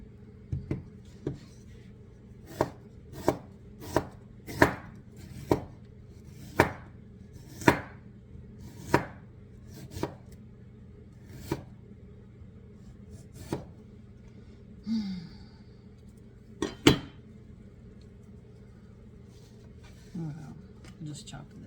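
A knife chopping ingredients for pear-nut muffins on a cutting board, about a dozen sharp, evenly paced thuds that thin out later, with a low background hum and a brief voice.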